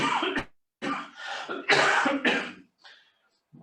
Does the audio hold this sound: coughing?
yes